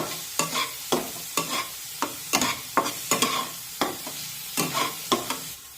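Chopped onion softening in a pan for a mixed-vegetable Bhogi bhaji, with a soft sizzle beneath repeated sharp scrapes of a spatula stirring at a steady rhythm, close and clear, no voices.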